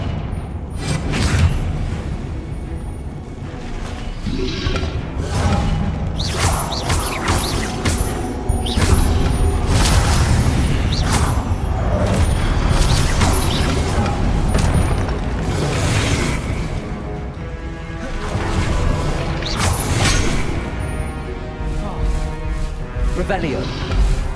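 Confringo blasting spells explode in Hogwarts Legacy, a dense run of loud booms and crackling bursts repeating over busy game noise, with voices at times.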